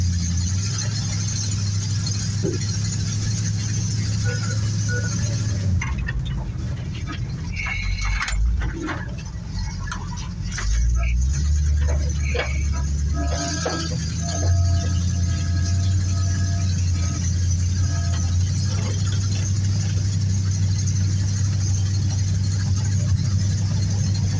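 A 1956 narrow gauge Bombardier snow machine works hard in snow, its engine a loud steady drone that dips and strains partway through before settling back to a constant roar.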